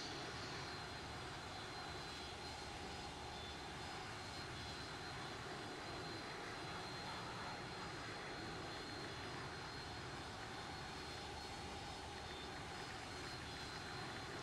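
The engine of a jet airliner in the X-Plane 11 flight simulator, on a flight from Tampa to Atlanta, gives a steady, unbroken roar and whine with a faint tonal hum. It is heard alone and quiet from start to finish.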